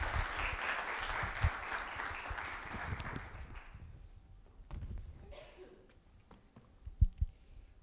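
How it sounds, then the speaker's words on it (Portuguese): Audience applause at a lecture on filtration processes and activated carbon: dense, steady clapping for about four seconds that fades out, followed by scattered knocks and faint room noise. "Uma salva de palmas e uma ótima palestra."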